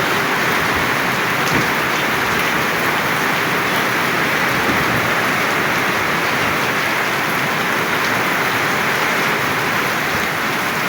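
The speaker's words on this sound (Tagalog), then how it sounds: "malakas ang ulan" Heavy rain pours steadily and loudly, a dense continuous hiss with no pauses and no voices.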